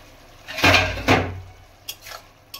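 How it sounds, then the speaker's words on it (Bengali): A metal lid lifted off a pot of bitter gourd and potato curry, a short clatter followed by a second knock, with faint kitchen clinks afterward. "ঢাকনাটা খুলে দেখব কি অবস্থা।"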